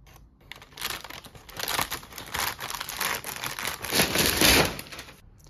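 A dense plastic bag of dog food with a zip-lock closure is handled up close, giving continuous crinkling and rustling that swells louder toward the end, with no one talking.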